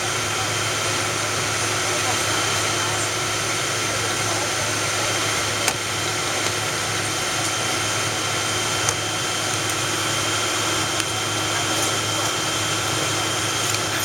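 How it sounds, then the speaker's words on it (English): Continental Airlines Boeing 777-200ER taxiing at Tokyo Narita airport, heard from inside the cabin as a steady engine drone and whine that holds evenly throughout, with a few faint clicks. "You can see our plane as we taxi."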